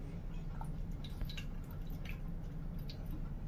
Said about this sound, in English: And if you pour water.